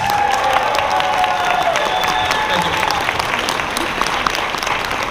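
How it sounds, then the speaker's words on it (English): A convention crowd at the Megaplex 2019 opening ceremonies gives sustained, loud applause with cheering, a steady wash of clapping with voices mixed in throughout. "Big round of applause, everybody."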